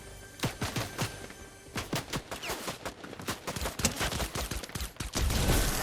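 Golden pistol shots in Fortnite ring out as a series of sharp, loud cracks, irregularly spaced with brief clusters, heard alone without talk.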